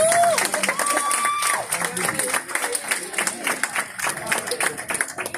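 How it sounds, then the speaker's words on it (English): Audience applause at a stage event, a steady patter of many hands clapping at moderate volume, with voices and a sustained tone running through it. "More applause."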